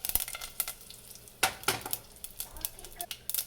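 Mustard seeds, curry leaves and dried red chillies sizzling and spluttering in hot oil, with sharp pops and crackles over a steady fry, close up, alone.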